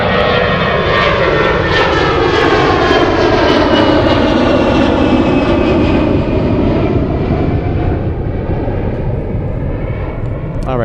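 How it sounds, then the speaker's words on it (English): An Airbus A380 airliner lands at Zurich airport with a loud, steady jet engine roar throughout, its pitch sweeping as it passes fairly close, and no clear speech over it. "All right, A380 landing in just a bit."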